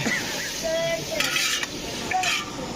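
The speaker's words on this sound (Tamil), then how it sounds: "இங்க 2 பேரும் மணல்ல பிரியாணி கிண்டுறாங்க." Biryani in a large pot is stirred by two cooks outdoors, a continuous hiss and sizzle with a few heavy scraping strokes of the ladle against the pot, close and fairly loud.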